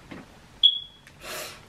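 A single sharp, high electronic low-battery chirp from a smoke detector rings briefly and fades, followed by a soft rustle in an otherwise quiet room.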